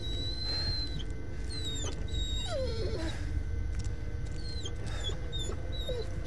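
Bullet, the dog in the Blair Witch video game, whimpers and whines in high thin bursts over a steady low ambient hum, with no talking.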